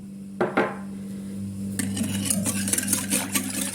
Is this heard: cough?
no